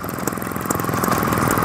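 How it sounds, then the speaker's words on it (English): A small smoky two-stroke stationary engine running at a vintage transport festival, a steady loud rapid chugging with a constant mechanical drone, close by. "Smoky little two-stroke down there."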